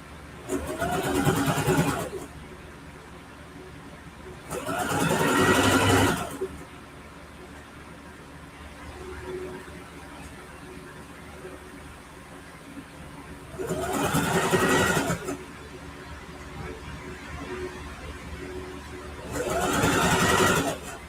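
Home sewing machine stitching a quilted ruffle backpack, running in four separate bursts of rapid mechanical whirring, each about two seconds long, with quieter pauses between.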